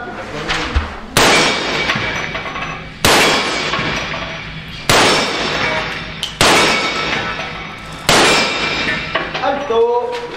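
Five gunshots ring out at a shooting range in a timed string of five shots in ten seconds, each a loud, sharp crack with a ringing tail, spaced roughly two seconds apart.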